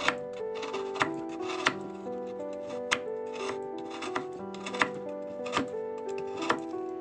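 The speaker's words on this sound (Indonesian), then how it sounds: "Jangan lupa gula merahnya ya, kita sisir juga supaya lebih mudah larutnya." A knife shaves palm sugar (gula merah) in a kitchen, producing regular crisp taps and scrapes about every half second, quiet and close, over faint background music.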